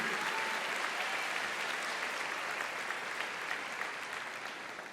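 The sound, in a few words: congregation applauding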